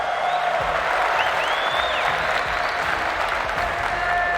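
A large arena crowd applauds at a Rocket League esports world championship, with dense, continuous clapping and scattered cheers throughout.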